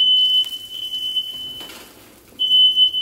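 Loud, piercing steady electronic beep from a smoke alarm, cutting out briefly in the middle before sounding again.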